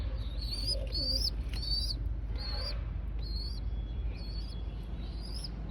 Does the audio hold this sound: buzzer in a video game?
no